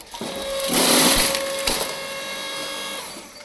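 Electric horizontal AL-KO LSH 520/5 log splitter running with a loud, close motor whine and a crackling burst as wood gives way, then a steady hum, no talk.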